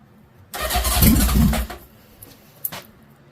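A cold mini-bike engine with the choke on is pull-started, giving a short rough burst of engine noise that sputters out after about a second, followed by a faint clack.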